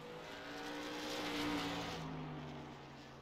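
Race truck engine on a hot lap in a racing video game, a steady sustained drone swelling slightly toward the middle then easing off as it passes, with no voices.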